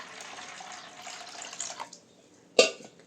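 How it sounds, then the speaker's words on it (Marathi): Water poured over soaked moong dal gives a soft gurgling trickle for a couple of seconds, then stops, followed by a sharp splash. "तर परत अजून आपण दुसऱ्यांदा पाणी ओतूया."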